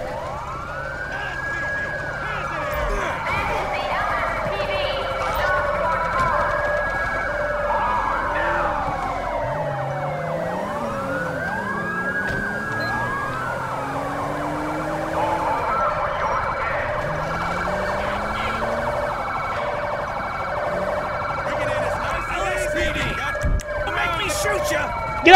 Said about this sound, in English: I don't know if that's my siren.